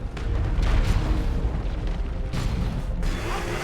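Booming explosions in the real-time strategy game Dawn of War 2, a continuous rumbling barrage of heavy blasts rolling one into another for several seconds, loud and close with no talk.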